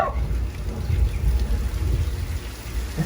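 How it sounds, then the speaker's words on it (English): Artificial movie rain pumped up through studio sprinkler tubes and falling on a Universal Studios Hollywood backlot set, a steady loud hiss of downpour with rolling thunder rumbling low underneath. "This is how we make it rain in the movies, guys."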